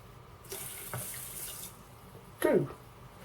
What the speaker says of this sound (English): Then add 2 cups of water,